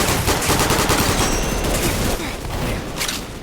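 Rapid automatic gunfire from a gun in a video game, a loud, dense, continuous burst of shots that carries on for a few seconds with barely a break and fades slightly toward the end, no talking.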